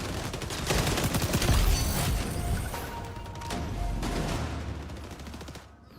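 Rapid bursts of gunfire in the video game XDefiant crackle through a multiplayer match, dense volleys rising and easing over several seconds before fading near the end.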